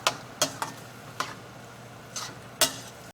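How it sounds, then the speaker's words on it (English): Chicken and mushrooms in soy and oyster sauce are mixed in a pan, with a low steady sizzle and several sharp, distinct clicks and scrapes of the utensil against the pan at irregular intervals. "Give it a good mix."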